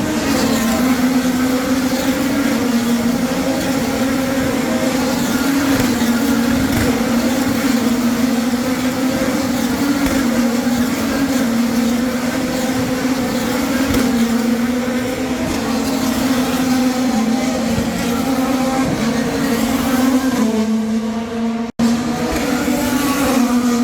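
Race cars at the Long Beach Grand Prix roar past as a loud, steady engine drone that holds throughout, heard from a distance along the street circuit.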